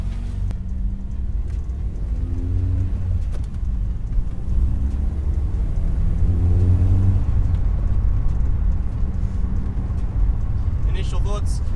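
BMW E36 with a welded differential on a short test drive around the block, its engine rumbling steadily inside the cabin with rising and falling revs as it accelerates.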